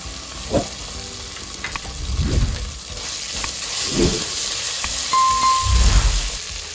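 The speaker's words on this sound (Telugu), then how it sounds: "బాండీలో ఆయిల్ వేడిగానే ఉంది కనుక వేసేసాను. ఇది దంచి పెట్టుకున్న అల్లం వెల్లుల్లి పేస్ట్ కూడా వేసేస్తాను." Pounded ginger-garlic paste fries in hot oil in a kadai, a loud continuous sizzle with a few soft stirring scrapes and pops throughout.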